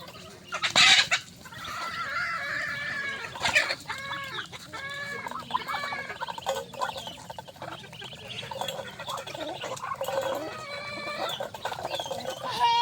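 Chickens and chicks clucking close by in repeated short bursts, with a rooster's crow among them and occasional rustling.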